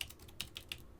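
Quiet typing on a computer keyboard during router configuration, a short run of four or five soft key clicks at an uneven pace, close and faint with no talking.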